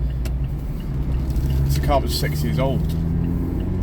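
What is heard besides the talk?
2018 Mazda MX-5 RF 1.5 engine driving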